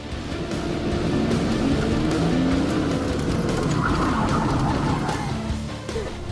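A car weaves through a slalom course on a driving track, its engine droning steadily for several seconds at close range, with a rising rev toward the end and no talk over it.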